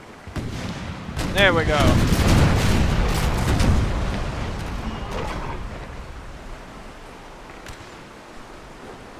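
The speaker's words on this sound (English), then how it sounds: "And we're about to fire upon the Turk." Cannon volleys boom out in a Napoleon: Total War battle against Turkish forces, several loud heavy blasts clustered early and then rumbling off into the distance, with someone talking over the gunfire.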